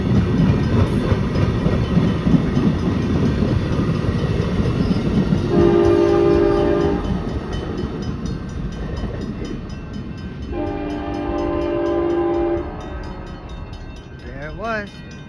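An Amtrak passenger train rolls past in Springfield, Illinois, a loud steady rumble with two long horn blasts, one around the middle and another later, and a brief squeal near the end.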